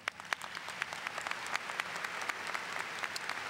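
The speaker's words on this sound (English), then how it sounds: "Please give them a round of applause." Audience applause for graduating students at a high school graduation ceremony, dense steady clapping with sharp individual claps standing out, held evenly to the end.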